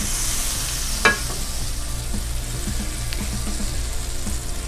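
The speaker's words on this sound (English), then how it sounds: "let's add a lot of butter. Some olive oil. Let that melt down, coat the pan." Butter and olive oil melting in a pan, giving a steady low sizzle with faint crackles and one brief clatter near the start, heard close with no talking.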